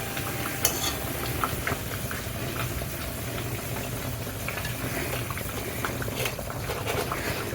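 Steady hiss and crackle of pea cutlets frying crisply in hot oil, with occasional sharper pops and a light clink partway through.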